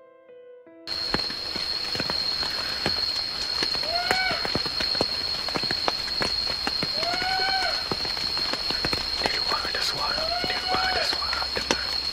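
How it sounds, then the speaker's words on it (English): Heavy rain pours at night in a steady, dense hiss that starts abruptly after a second of quiet, with a thin high whine and a few faint rising tonal calls drifting through. "as night fell and rain began to pour, Saror settled into his tent"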